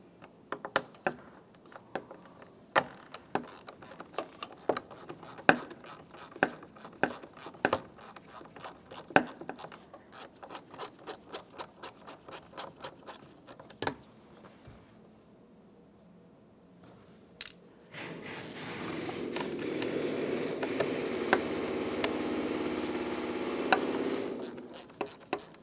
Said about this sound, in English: removing each of our T20 torque screws holding the mass airflow sensor to the air inlet tube